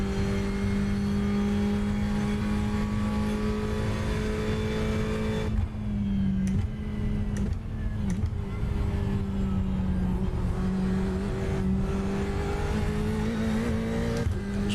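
A Ferrari 488 GTE engine in the iRacing simulator circles Sebring with a loud, continuous droning note that rises and falls through gear shifts and brief lifts, with no voices.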